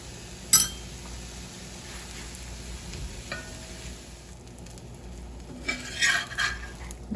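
A thin French crepe cooks in a pan just after being flipped, giving a soft, low sizzle with a few sharp clinks of a utensil against the pan.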